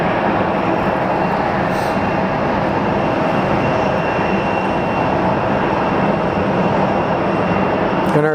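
An Embraer jet arrives at Phoenix Sky Harbor International Airport. Its engines make a loud, steady roar throughout, and the roar cuts off abruptly at the end.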